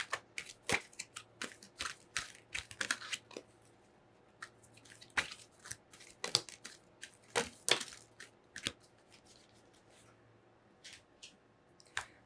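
Tea leaf oracle cards are shuffled and pulled by hand, a quiet close-up series of crisp papery flicks and snaps in irregular bursts, fading to sparse taps near the end, with no speech.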